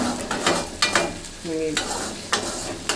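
Onions and chilies stirred and fried in a little oil for Bihari chicken, with soft scraping spoon strokes recurring every half second or so over a steady low sizzle, close and moderately loud.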